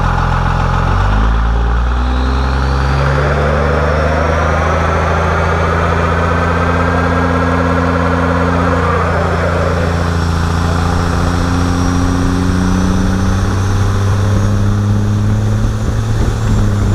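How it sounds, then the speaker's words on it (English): A 24-valve diesel pickup truck on bigger tires doing donuts, its engine roaring loud and continuous with rising and falling revs as the tires spin, close up throughout. "We were just having a little bit of fun right there with the donuts."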